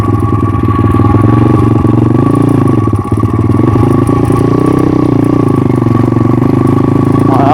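A motorcycle engine runs loud and close with a steady throbbing drone, its pitch dipping briefly as gears shift mid-turn, then rising again under load; no talking.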